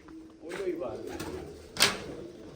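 Pigeons cooing softly at close range in a few short low calls, with people talking nearby.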